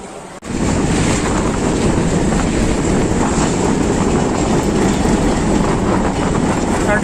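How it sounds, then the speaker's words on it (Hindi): Awam Express passenger train hauled by locomotive HBU 8056 arriving at Peshawar station, a steady loud rumble and rolling rail noise with wind buffeting the microphone throughout, no talking. "अब अवाम एक्सप्रेस को ये वाला लोकोमोटिव लेकर आया है HBU 8056"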